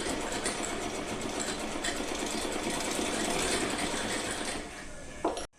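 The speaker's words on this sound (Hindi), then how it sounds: "उस पर नीचे हम पूरे पे लेस लगा के सिलाई लगा लेंगे" A sewing machine stitches lace along the hem of a small dress for a Laddu Gopal figure, running steadily with a dense, fast mechanical whirr that stops abruptly near the end.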